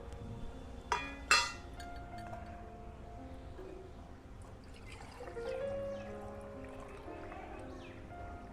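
Water fills a small vessel set at the foot of a tulsi plant for a home puja in the month of Baisakh: two quick metallic clinks early, then a quiet trickling pour with faint ringing tones.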